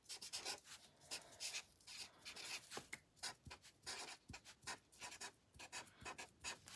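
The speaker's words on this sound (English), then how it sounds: "you're going to put in the middle of the paper, you are going to put the person's full name and date of birth" Pen writing a full name and date of birth on paper, rendered as a close series of quick scratchy strokes with short pauses between words, with no voices.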